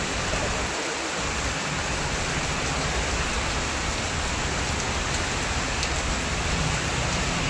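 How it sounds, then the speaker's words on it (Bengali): Heavy rain pours steadily and loudly outside a shop onto a flooded main road, a dense unbroken hiss with no voices. "দেখো বৃষ্টি কি পরিমাণে বৃষ্টি হচ্ছে"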